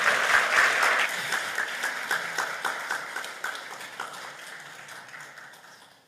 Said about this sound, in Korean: 다시 한번 뜨겁게 박수로 해주십시오.